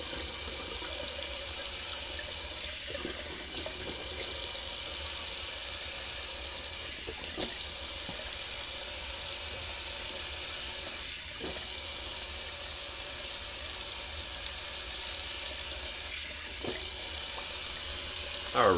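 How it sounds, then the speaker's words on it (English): Cold water runs steadily from a tap into a sink while someone shaves at it, a continuous, close splashing rush with a few brief dips in flow and no talking. "And we'll throw in some cold water while we're at it."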